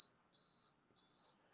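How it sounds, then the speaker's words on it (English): Electronic alarm beeping from a model railway fast clock, sounding two long, steady high-pitched tones in quick succession, clear and close against a quiet room. "that's the alarm clock going off on the fast clock"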